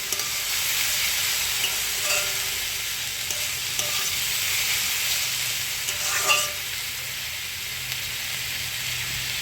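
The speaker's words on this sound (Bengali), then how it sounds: "তো এবার ভাজা ভাজা করে নেব।" Watermelon rind fries in a pan with oil, giving a steady close sizzle broken by a few scraping stirs of a spatula, with no talking.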